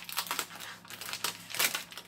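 A plastic bag holding cold porcelain clay crinkles and rustles softly as it is handled and opened, with several quiet, close crackling bursts.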